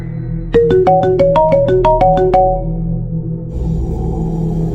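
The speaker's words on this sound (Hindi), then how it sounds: "तभी अचानक उसका फोन बजता है" A bright electronic ringtone chimes a quick ascending-descending melody of about a dozen notes, loud and close, then stops, leaving a low hum.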